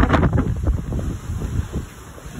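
Strong wind gusts by a lake, buffeting the microphone in uneven, rumbling bursts that stay loud and close throughout.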